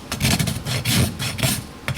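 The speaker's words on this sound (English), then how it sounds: "With a sharp rasp you can take off a lot of foot fast." Sharp rasp filing an animal's hoof during trimming, a close, loud, coarse scraping repeated in four quick back-and-forth strokes, with no talking.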